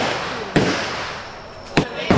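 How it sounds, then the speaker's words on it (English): Military weapon fire at the Cu Chi Tunnels in Vietnam, with a couple of sharp gunshot cracks about a second apart over loud outdoor background noise and voices. "At first, I thought the sound of gunshots was a recording to simulate the war, but you can actually fire a military weapon"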